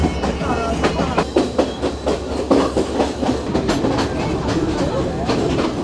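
A passenger train on the Kandy to Nanuoya line in Sri Lanka rumbles along the tracks with a steady rhythmic clickety-clack of wheels over rail joints, loud and continuous from inside the carriage.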